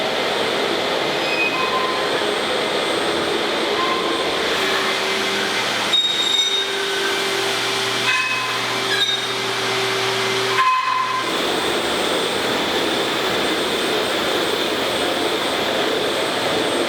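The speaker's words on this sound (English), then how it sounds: "Fred is getting the basement floor ground out so we can polish that" A diamond concrete grinder works a basement floor, giving a steady, loud broadband roar with a hissing whine that runs throughout, and brief shifts in pitch as the machine moves across the surface.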